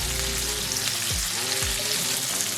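Shrimp tossed in hot oil and seasoning in a pan give a steady, dense sizzle throughout, close and fairly loud, with a couple of low clunks as the pan moves and no voices.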